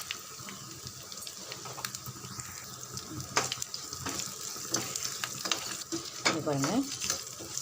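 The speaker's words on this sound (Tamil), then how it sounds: "நல்லா வடகம் பொரிஞ்சிடுது." Oil sizzling and crackling as vadagam (sun-dried crisps) fry, with clinks and scrapes of stirring and a brief spoken remark.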